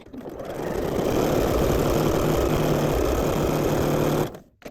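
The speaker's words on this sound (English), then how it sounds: "I'm going to turn it around and sew this one" A sewing machine stitches fabric for half-square triangle quilt pieces in a steady, fast mechanical whir that ramps up, runs loud and even for several seconds, then stops abruptly with a faint click after.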